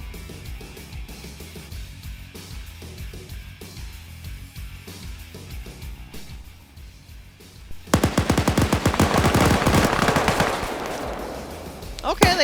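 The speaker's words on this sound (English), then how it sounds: "Autocannon just engaged something" Sustained automatic gunfire from an autocannon and machine guns in a multiplayer PvP shooter game, a dense rapid burst that kicks in loud partway through after a quieter stretch of distant rhythmic pops.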